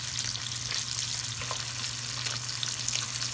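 Sausage frying and browning in a pan, giving a steady, even sizzle with soft crackles throughout, close up and moderately quiet, with no talking.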